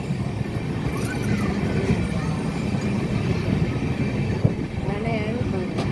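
A passenger express train runs slowly between Chennai Central and Hubballi, a low steady rolling rumble with faint wheel squeals and rail noise heard from inside the train.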